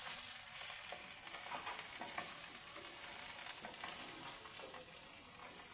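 Food cooks on a grill with no oil, making a soft, continuous sizzle and hiss with light crackling, fairly quiet and steady throughout without talk.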